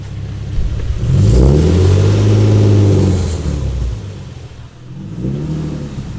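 A Nissan 370Z with a very loud exhaust revs hard, a deep roaring engine swell that rises and holds for a couple of seconds, drops away, then returns in a shorter blip, close and loud, with no talking.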